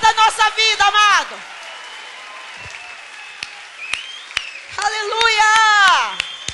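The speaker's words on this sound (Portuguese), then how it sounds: "Nós estamos aqui aplaudindo Jesus, governador da nossa vida, amado." A church congregation breaks into loud, dense applause for Jesus at a worship service, rising and falling in bursts between stretches of amplified preaching in Portuguese.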